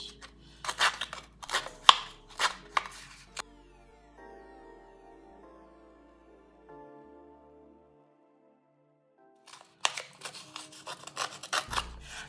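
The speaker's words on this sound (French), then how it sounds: "allez, je gratte aussi." A paper card base for a scrapbooking ATC is scraped in quick rasping bursts, a first series of close strokes, a quiet pause, then another run of scratchy scrapes.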